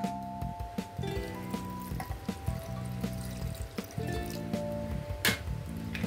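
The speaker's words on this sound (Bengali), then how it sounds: "আর এটার মধ্যে আমি দিয়ে দেবো দুধ," Milk pours onto chopped banana for a banana milkshake, a steady liquid pour with some light drips and clinks, fairly quiet, under a low hum with no talk.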